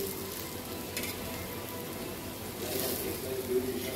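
A moong flour pancake roasting on a pan in a village kitchen gives a soft, steady sizzle with faint crackles, close and low in volume, holding evenly throughout.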